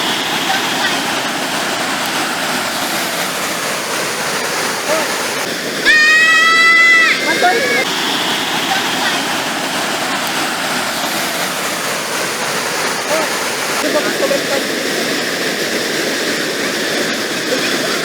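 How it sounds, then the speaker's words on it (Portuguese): Steady, broad rush of falling water at Cachoeira do Formiga in Jalapão, a clear-water cascade, filling the whole stretch; a short bleating animal call rises briefly near the middle. "Um espetáculo a minha cachoeira aqui."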